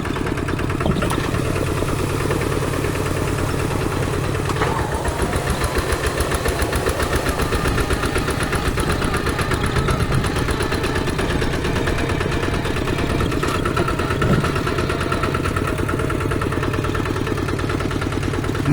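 A tractor engine runs steadily throughout a ride through a field, a loud, constant low throb with a rapid knocking pulse and vibration.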